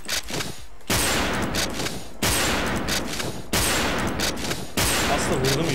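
Sustained automatic gunfire fills a Wolfteam match, arriving as loud, dense bursts that each run about a second and a half. The bursts are split by short pauses, with faint voices between them.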